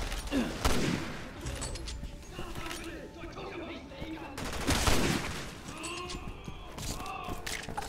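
Gunfire in the video game Resident Evil 6, bursts of shots mixed with game effects and creature noises, heard under steady talk from players.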